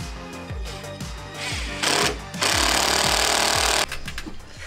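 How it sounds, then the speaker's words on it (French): Hammer-in screws being driven with a hammer to fix wooden formwork boards along a wall, a steady series of close, sharp metallic blows, joined midway by a loud, continuous power-tool roar. "pour fixer les bois de coffrage, il utilise des chevilles à frapper. Non, des vis à frapper"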